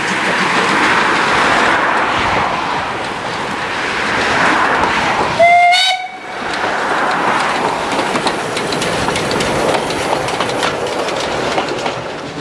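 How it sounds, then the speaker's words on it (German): The narrow-gauge locomotive Spreewald pulls into Heiligenberg station on a museum railway, giving a steady rolling rumble and clatter with one short whistle about midway. "Mit einem Pendel aus Asendorf erreicht die Spreewald gerade den Bahnhof Heiligenberg."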